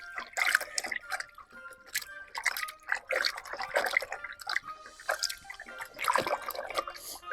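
Ground kunu zaki pap being sieved with added water, giving a steady run of drips, trickles and wet sloshing in irregular bursts, close by with no talk.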